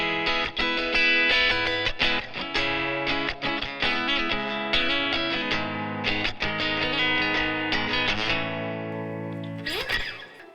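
An electric Snap Axe E folding travel guitar from Snap Dragon Guitars plays a loud, close run of notes and chords with sustained ringing tones, ending in a rising bend and a final strum.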